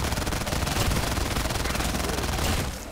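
A PPSh submachine gun fires one sustained rapid burst in Black Ops 3 Zombies on a remastered Bus Depot map, loud and close, a dense rattle of shots for nearly three seconds before cutting off.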